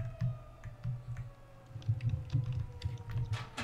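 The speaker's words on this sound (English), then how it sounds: "I hear you typing vigorously." Fast, vigorous typing on a computer keyboard, with dense irregular clicks of moderate loudness running throughout over a steady background hum and a faint tone, no speech.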